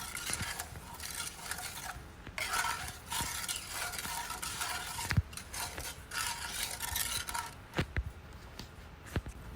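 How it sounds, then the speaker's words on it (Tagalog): A spoon stirring maja blanca, a creamy coconut pudding mixture, in a pot, giving a steady scraping swish that comes in bursts with a few sharp clinks of utensil against metal. "Then haluin lang natin 'yan."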